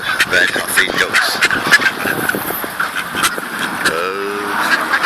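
Ducks and geese squabble over bread at Alton Towers, a busy close mix of honks, quacks and squawks overlapping continuously, with one louder drawn-out call near the end.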